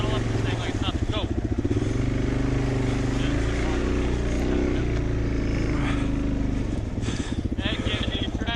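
A dirt bike engine revs and throttles up on a muddy trail, a loud, steady motor drone running close throughout with brief surges, while people talk over it.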